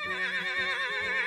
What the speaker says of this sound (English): Are you seeing this very fast animal? It's a horse.